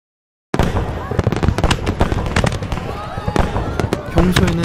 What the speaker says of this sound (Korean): 불꽃놀이에서 폭죽의 강력한 폭음과 진동을 확실히 느낄 수 있었던